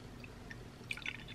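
Soft liquid dribbling and splashing as Mountain Dew Voodew soda is poured into a glass, a short quiet pour with small bright drips and fizz near the end.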